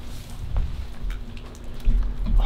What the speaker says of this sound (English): the rain is stopping.